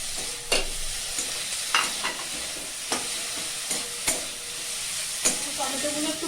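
Tomatoes added to already-fried vegetables sizzle steadily in a pan for a Bengali sambar dal dinner, with sharp clinks of a stirring spoon roughly every second, close and moderately loud.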